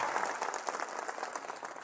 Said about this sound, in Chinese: 把掌声送给我们的小巨肺。